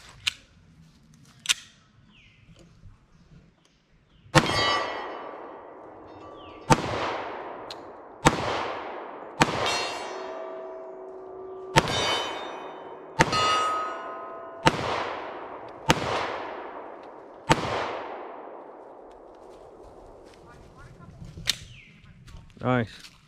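A Sig Sauer P320 pistol in .45 calibre firing at an outdoor shooting range: about a dozen sharp, loud single shots at an irregular, unhurried pace, each followed by a ringing echo that fades away.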